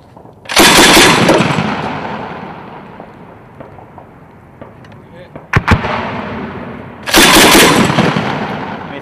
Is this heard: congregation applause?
no